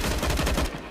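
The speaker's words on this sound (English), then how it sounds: "fires in with the SMG." SMG gunfire during a Counter-Strike match on Inferno, a loud, rapid burst of evenly spaced shots lasting under a second, close and alone.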